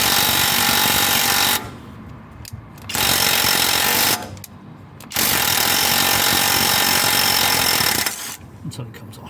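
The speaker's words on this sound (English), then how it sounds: "we just whiz it forwards and backwards a bit with the impact driver" Impact driver hammering at a seized lower ball joint on a Volvo XC90, loud close bursts of rapid chattering impacts lasting a second or two each, separated by short pauses, with faint handling noise in the gaps.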